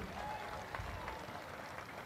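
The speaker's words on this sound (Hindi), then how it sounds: "जोरदार ताली बजाओ चौधरी साहब के लिए" A crowd at a Lok Sabha election rally in Bhopalgarh, Rajasthan, claps for candidate PP Chaudhary. The applause is a continuous, distant wash of many hands, held at a steady, moderate level.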